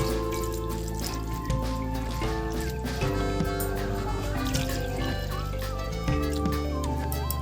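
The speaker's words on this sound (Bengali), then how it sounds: "তিন মগ জল দেওয়া হয়ে গেছে" Water poured from a mug into a cooking pot of papaya, potato and rice: a steady, continuous trickling pour, close and fairly loud, running the whole time against a background of sustained tones.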